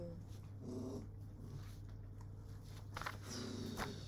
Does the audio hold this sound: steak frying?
no